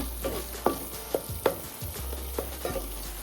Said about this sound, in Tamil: இந்த வெங்காயம் தக்காளி நல்லா வதங்கிடுச்சுங்க